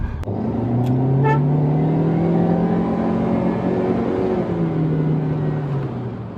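Hyundai i20 with a 1.2 litre four-cylinder Kappa engine and IVT automatic accelerating, a steady rising engine drone heard from inside the car, sustained and fairly loud with no talking.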